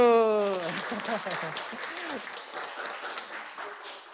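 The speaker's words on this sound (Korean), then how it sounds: "박수." A congregation at a Korean Catholic church in Guatemala claps during an Advent Sunday Mass. A voice speaks briefly at first, then a soft, scattered patter of applause follows and fades.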